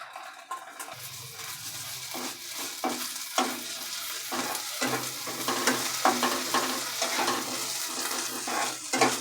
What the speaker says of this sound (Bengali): তো এর মধ্যে দিয়ে দেবো আমি আগে থেকে বেটে রেখেছিলাম আদা রসুন পেস্ট